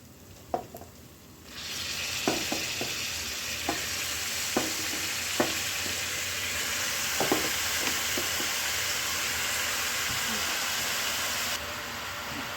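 Oyster mushrooms fry steadily in a hot pan, a constant loud sizzle with repeated scraping clicks from stirring, no talking.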